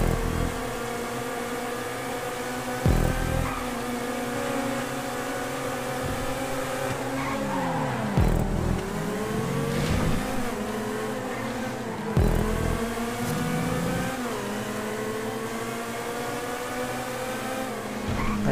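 Car engines in a GTA V race at Sandy Shores whine and rev continuously, pitch rising and falling through gear shifts, with several cars buzzing together at close range.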